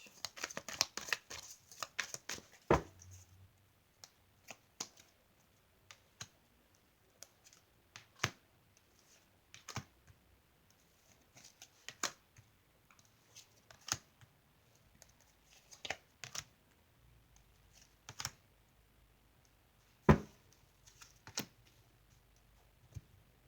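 Tarot cards are shuffled and drawn one by one, crisp close riffles at the start, then scattered soft slaps and flicks as single cards are pulled and laid down in near silence.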